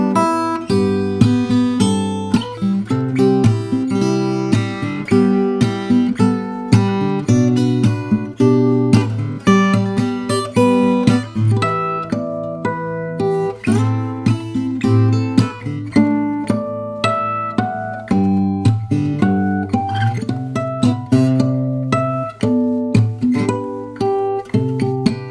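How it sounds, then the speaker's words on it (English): Solo fingerstyle guitar plays the high melody of a song, a steady run of plucked notes with a bass line beneath, close and clear for about 25 seconds with no talking. "Here's the high melody. It sounds like this."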